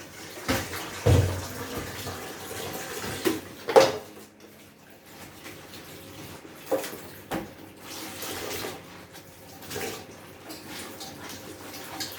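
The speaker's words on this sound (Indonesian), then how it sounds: "Kita bilas sampai bersih." Decontaminated medical instruments rinsed clean under running tap water, a steady wash with occasional clinks and knocks of metal against a tray, close and alone without talk.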